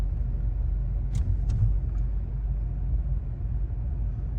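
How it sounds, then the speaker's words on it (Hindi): Tata Nexon CNG car rolling in fourth gear at about 30 km/h without throttle, a steady low engine and road rumble heard from inside the cabin, with a couple of faint high clicks early on. "बिना एक्सीलेट किए हुए गाड़ी अपने आप चल रही है"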